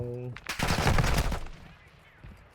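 A quick burst of rapid gunfire in Call of Duty: Modern Warfare DMZ rings out loudly after a short tone, then fades into quieter background noise.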